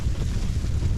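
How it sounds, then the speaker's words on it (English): Strong gusts of wind, 35 to 40 mph, and driving rain batter a tent at a wild camp by Angle Tarn in the Lake District, a loud continuous low roar and rumble with no voices. "As you can probably hear, we've had a pretty rough night in terms of weather"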